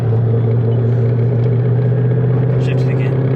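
Twin turbo Mustang with an MT-82 gearbox and freshly rebuilt drivetrain on its first drive, a loud steady low engine drone filling the cabin throughout, with voices talking over it.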